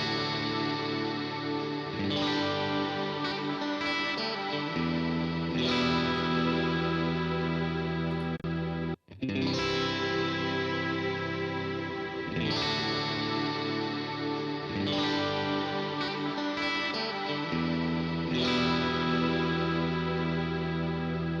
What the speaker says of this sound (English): I just wanted to show a big, wide, super washy reverb.